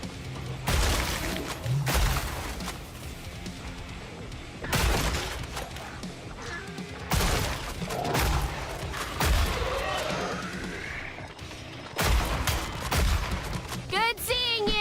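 Rapid bursts of gunfire from the horde shooter Killing Floor 3, loud and repeated in clusters with short pauses, accompanied by a player talking.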